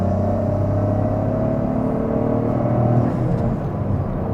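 Toyota GR Corolla pulling in third gear after a short-shifter install, a steady, loud engine drone heard from inside the cabin with a faint rise in pitch and no talk.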